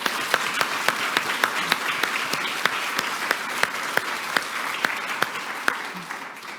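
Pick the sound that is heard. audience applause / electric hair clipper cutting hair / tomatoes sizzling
audience applause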